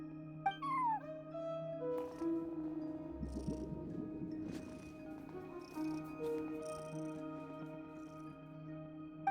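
A cat meows several times at a front desk in the Genshin Impact game world, over a steady hum of background music and ambient tones.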